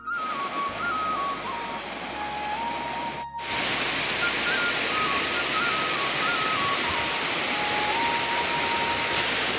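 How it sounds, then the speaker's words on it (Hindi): A waterfall in the hills gives a dense, steady roar of falling water. It fills the whole clip at an even, loud level, and a faint high whistle-like tone drifts over it. "यहाँ से झरना वो दिख रहा है"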